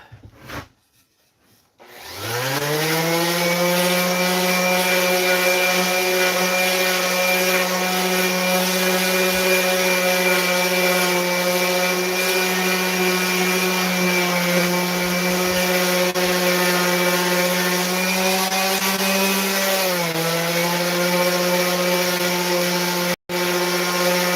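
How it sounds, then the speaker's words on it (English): A power sander, likely an orbital type, works a wooden board for a second pass. It spins up after a brief quiet start and runs as a loud, steady motor whine with a strong tonal hum, dipping briefly near the end. "we'll sand it again just to make sure"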